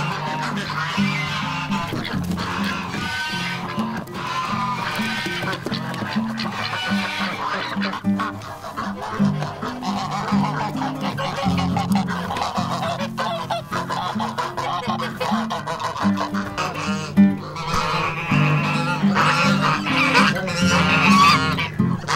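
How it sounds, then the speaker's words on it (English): Geese and ducks honk and quack in a dense, steady chorus as their hutches are opened at a farm sanctuary, continuous and fairly loud throughout. "So now we're gonna go to the duck and goose hutches."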